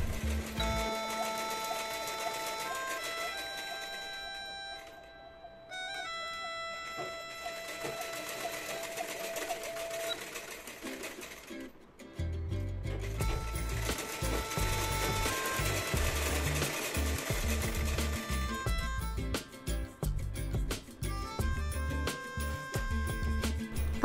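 A sewing machine stitches the neckline of a dress in a long, steady mechanical whir that shifts and grows heavier about halfway through and keeps running close by.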